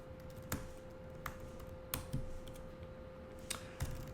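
A computer keyboard is typed in sparse, quiet bursts of sharp key clicks, irregularly spaced, over a faint steady electronic hum.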